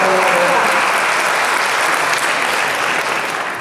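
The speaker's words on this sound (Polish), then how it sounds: "Dużo brawo." Sustained applause from an audience at a knowledge quiz tournament about Olsztyn, steady and loud throughout, tapering slightly toward the end with no voices over it.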